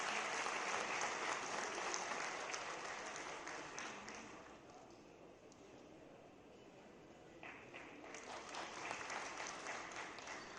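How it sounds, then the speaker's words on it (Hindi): Thunderous applause welcomes a defence minister at a public ceremony in Uttarakhand, a continuous wash of many hands clapping that dips briefly and swells again, heard from some distance and fairly faint. "जोरदार तालियों से स्वागत एवं अभिनंदन।"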